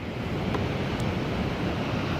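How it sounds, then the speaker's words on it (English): Sea waves breaking below the granite cliffs at Land's End, Cornwall, a steady broadband wash of surf mixed with wind buffeting the microphone, with no talk. "Look at the waves."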